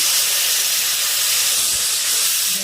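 Water splashed into a pan of spice paste frying in oil with red chilli powder sends up a loud, steady steaming hiss that fills the whole moment, broad and close with no voices.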